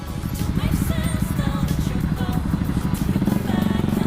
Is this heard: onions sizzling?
no